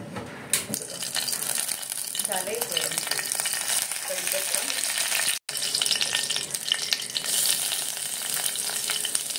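Garlic frying in hot oil in a pan, cooked until golden brown for a spicy Maharashtrian fish curry. A dense, steady sizzle and crackle runs loud and continuous throughout, briefly cut off once.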